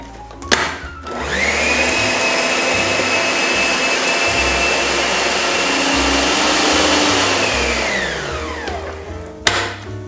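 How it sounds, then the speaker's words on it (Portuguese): Stand mixer beating savoury panettone dough, a loud electric motor whine ramping up, running steadily for several seconds with dull thumping of the dough, then spinning down, with a clunk at each end. "Agora nós vamos bater só para finalizar."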